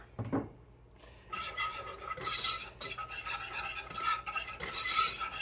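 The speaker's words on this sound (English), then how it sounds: "So we want to whisk our butter and our flour." Butter and flour are whisked in a pan, producing rapid, close scraping and rubbing strokes in bursts after a brief soft tap and short quiet opening.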